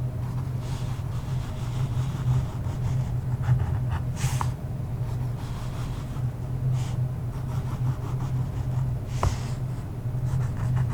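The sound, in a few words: highlighting a book with colored marker pens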